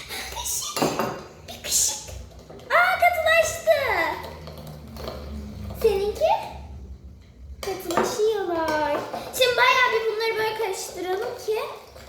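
Cutlery scrapes and clinks against a plate while slime is stirred. Children and an adult talk over the clatter throughout.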